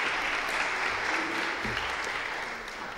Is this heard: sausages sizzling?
no